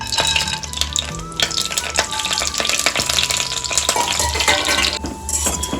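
Chopped dry fruits fry in ghee in a pan for payasa, giving a steady crackling sizzle with intermittent metallic clinks and scrapes of a spoon stirring, close and fairly loud, with no talk.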